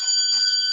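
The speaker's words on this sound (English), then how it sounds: "We'll ring the bell here." A bell rings during a tax planning webinar: a single sustained bright metallic tone that holds steady for under a second, clear and alone.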